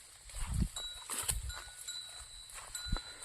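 Goats being herded home in winter on a rural farm, with livestock bleats and a bell clinking at intervals over a faint background, nobody speaking.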